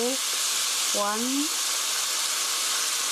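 Pork stir-frying with kimchi gives a loud, steady sizzle as rice wine hits the hot pan, and a brief voice is heard under the frying noise.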